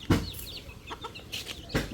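Chickens cluck and squawk nearby in scattered bursts, several birds calling over quiet rustling in the background.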